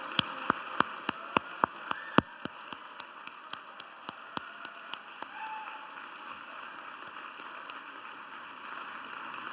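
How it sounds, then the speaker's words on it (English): Rhythmic clapping from a convocation audience: sharp, evenly spaced claps that are strong at first and then grow fainter and sparser over a quiet hum. "Give them a round of applause as they come in."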